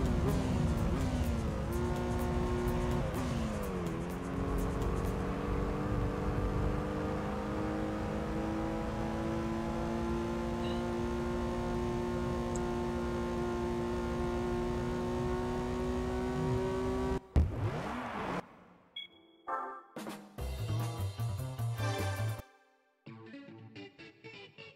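A race car in Gran Turismo 3 on PS2 drives with a loud, continuous engine note that climbs through the gears, then holds a long high steady whine before cutting off into brief choppy menu-like bursts and silence.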